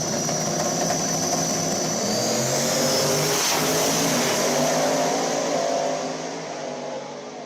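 Racing engines roar during a replay of a close race, a loud, dense blend of several cars with one sweeping past near the middle before the sound eases off toward the end.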